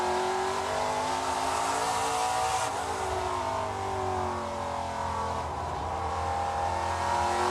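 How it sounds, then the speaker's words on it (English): An ARCA Menards Series race car at Lebanon I-44 Speedway rolls off the throttle through the center of a banked corner, its engine note steady and droning at mid distance for the whole stretch, with no voices. "You hear how much he's off the gas, and that car is rolling in the center of the corner."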